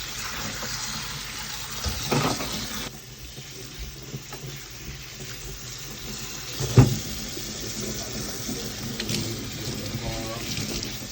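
Tap water running steadily into a sink as vegetables are washed, a continuous close splashing hiss with a few knocks and handling sounds over it.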